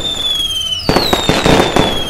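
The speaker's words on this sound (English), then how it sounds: "I woke up later to the sound of explosions perforating my eardrums." Loud Fourth of July fireworks bursts, several sharp bangs and crackles in quick succession, with a high whistling tone trailing through the explosions.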